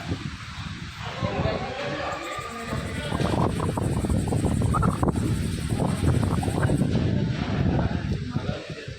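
Strong night wind buffets the microphone outdoors during a road journey near a temple, a loud, continuous rough roar with gusty swells and no clear break.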